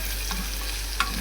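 Garlic frying in a pan, a soft steady sizzle under a low hum, with a couple of light scraping stirs over roughly a second.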